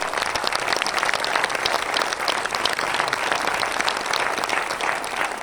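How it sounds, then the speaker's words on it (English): A crowd at a DXN business meeting applauds, with lively, continuous clapping at a strong, even level throughout. "A round of applause to Mr. Laszlo for his commitment to his group."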